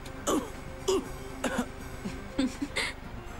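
Several short, fairly quiet coughs and throat clears come in a rough series of bursts from a person, with no speech between them.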